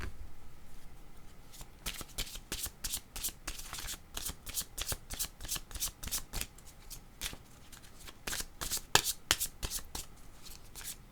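Tarot cards are shuffled and laid down in a steady stream of crisp riffling and slapping bursts, close and fairly loud, with no voices.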